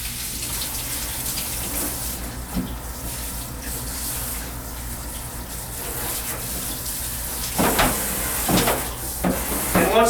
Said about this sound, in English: Once again, a thorough rinse.